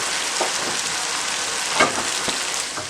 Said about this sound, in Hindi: अब लेमन जूस डाल दें।